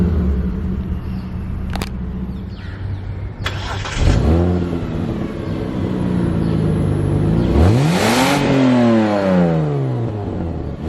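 A 2000 Mitsubishi Verada 3.5 XI cranks briefly and fires up to a steady idle. The V6 is then revved in two swelling, rising-and-falling bursts, loud and close with no talking.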